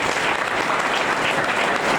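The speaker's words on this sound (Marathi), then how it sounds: "टाळ्या अशा पुन्हा एकदा." A crowd applauding at an award ceremony, continuous dense clapping at full strength throughout, loud and close, with no voices over it.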